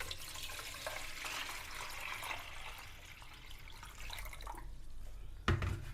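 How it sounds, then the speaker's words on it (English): Water poured from a tap into a large cooking vessel in a home kitchen, a steady splashing stream for several seconds that fades and ends with a bump. "Add some water."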